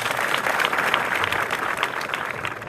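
Students clap together at an outdoor school gathering, a dense, steady round of applause that stays loud and continuous throughout.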